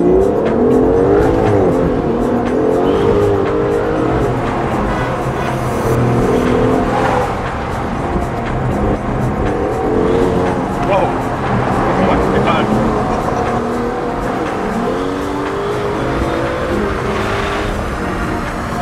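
A fast car revving hard and accelerating while driven, engine roaring loudly and continuously with rising and falling pitch and brief tire squeal, with people talking and exclaiming over it.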